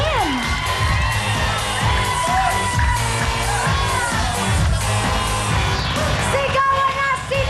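A large crowd of people from Cavite shouting and cheering, with loud whoops and yells layered densely and continuously close by, some higher excited voices rising above the roar.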